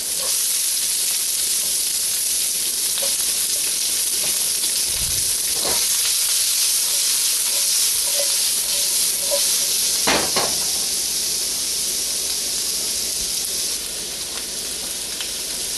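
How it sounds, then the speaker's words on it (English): Onions sizzle in a hot, lightly smoking oiled wok while cooking lo mein, a loud, steady, broadband hiss throughout with a few faint pops and clinks. "start sauteing my onions until I start seeing a light smoke come off the oil"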